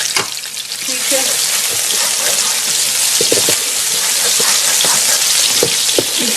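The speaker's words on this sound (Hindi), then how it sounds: "प्याज को ज्यादा हमने ब्राउन नहीं करना।" Onions sizzle steadily in hot oil in a pan, softening for a dum kebab recipe, a dense continuous frying hiss with occasional stir clinks, close and loud, no talk.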